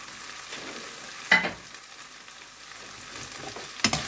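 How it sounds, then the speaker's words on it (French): Tofu is poured into a hot pan with chili, garlic and sesame sauce, bursting into two sharp, loud sizzles about two seconds apart over a quiet, low frying hiss. "à cette étape, je vais verser mon tofu."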